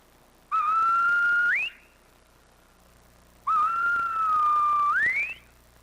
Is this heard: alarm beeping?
no